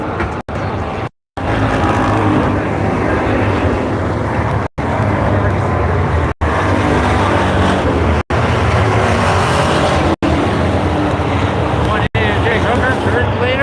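Crate sprint race cars thunder around Buxton Speedway on the last lap of a feature race, a loud continuous engine roar broken by several abrupt brief dropouts. An announcer talks over the noise.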